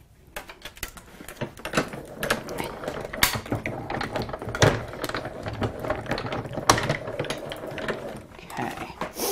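A manual die-cutting machine cranks card paper through its plates, giving a run of clicking, ratcheting mechanical snaps and clunks at close range, irregular and steady over several seconds.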